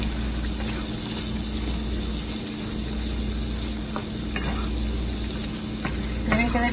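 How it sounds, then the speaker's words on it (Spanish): Ground beef picadillo simmering in a pan, a steady close sizzling and bubbling with faint scraping of a spoon throughout. "Ya solo lo dejo hervir por unos de 5 a 10 minutos."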